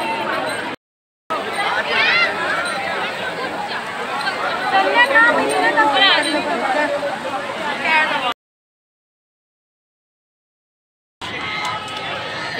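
A dense crowd at Prem Mandir temple in Vrindavan fills the air with steady close chatter and overlapping voices, cut off by stretches of silence.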